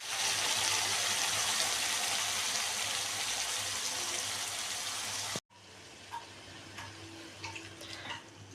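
Water poured into a pan of cooking chicken curry with coriander, a steady loud gush for about five seconds, then cutting off to a low simmering hiss with a few small clicks.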